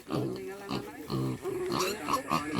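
Pig on a hillside farm giving several short grunting oinks in a loose rhythm, close and moderately loud, with people talking in between.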